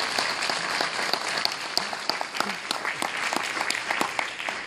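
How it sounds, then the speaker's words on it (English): A dinner crowd at an annual scholarship banquet gives a sustained round of applause, many hands clapping steadily at moderate distance, continuous and even throughout with no speech over it. "Give him another round of applause."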